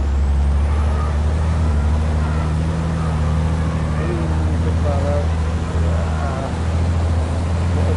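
Racing trucks in the FIA European Truck Championship braking hard into a corner, a loud continuous low engine roar with air-brake hiss, with a commentator talking over it.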